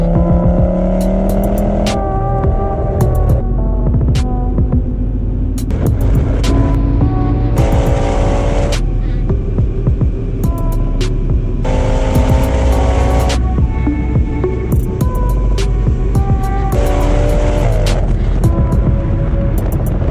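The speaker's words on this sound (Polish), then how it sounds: "Na pewno te układy wydechowe niesamowicie brzmiały." Tuned performance exhausts on engines ranging from a six-cylinder boxer to a V12 roar and crackle in a loud, continuous montage of revs and bursts, with pitch climbing and falling as throttle changes between cars.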